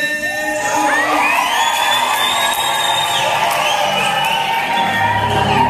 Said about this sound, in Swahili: hiko ni vigelegele.